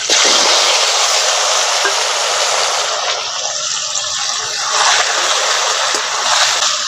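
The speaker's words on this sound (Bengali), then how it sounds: "এবার গরম করার মধ্যে সরষের তেল দিয়ে দিচ্ছি ওই তেলের মধ্যে সামান্য একটু হলুদের গুঁড়ো দিয়ে দিচ্ছি এবার ধুয়ে রাখা কচুগুলো দিয়ে দিচ্ছি" Washed taro pieces hit hot mustard oil tinted with turmeric, giving a loud, dense, steady sizzle that hisses close up for the whole stretch with no voices.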